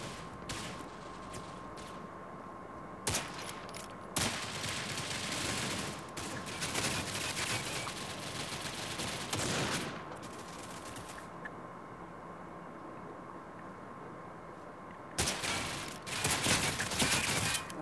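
Rapid bursts of sniper rifle gunfire from a TRG in the video game PUBG, loud volleys of shots repeating across the clip against continuous game noise, with several dense stretches of firing.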